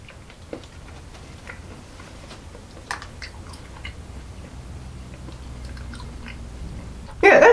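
Hitto's light blue mint sweets with a squishy liquid filling being chewed close to the mic, soft crunches and wet squishing bites at an uneven pace, ending in a brief loud rustle.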